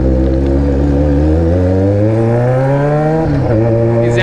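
Yamaha XJ6 motorcycle fitted with an Atalla exhaust revs loudly and close up, engine pitch climbing steadily for about three seconds before a brief dip and renewed rise.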